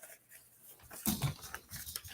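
A puppy shifts around on a couch and pants softly nearby, with faint rustling and brief scuffling bursts, quiet and close with no talking.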